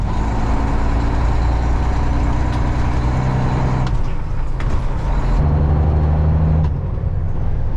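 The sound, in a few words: farm truck with Super 10 transmission driving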